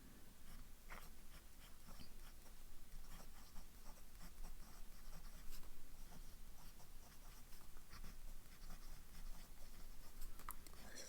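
A broad-nib fountain pen scratches across paper in quick irregular strokes, faint and close, with a soft continuous room hiss and no voices.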